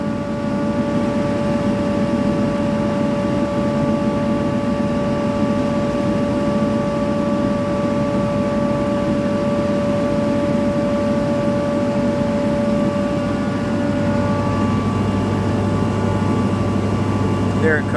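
A Butler vacuum blower mounted in a van runs steadily at a constant loud drone with tonal whine, cleaner being pushed out its exhaust on the driver's side, with a slight shift in pitch late on.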